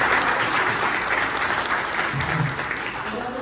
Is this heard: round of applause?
yes